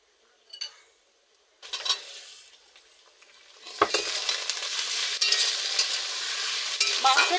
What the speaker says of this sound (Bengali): মাংসটা দিয়ে এবার আমি ভালো করে একটু তেলের মধ্যে ভেজে নেব।